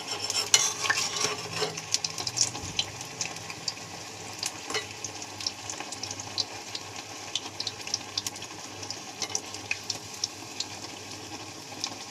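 Gentle sizzling of light frying with a little gram flour in a pan, with soft stirring clicks and scrapes throughout, fairly quiet and continuous.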